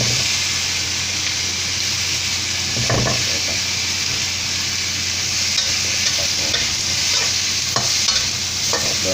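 Garlic and pineapple are stir-fried in a pan for a sweet-and-sour dish, with a loud continuous sizzle broken by occasional scraping strokes of the spatula.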